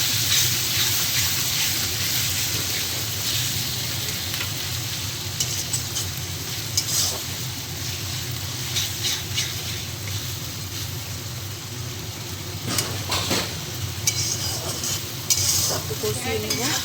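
Ginger-garlic paste and spices fry in a pan with a constant close sizzle, broken by repeated scraping and clinking strokes of a stirring spoon, with no talking.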